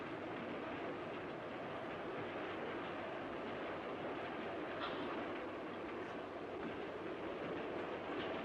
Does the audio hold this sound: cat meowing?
no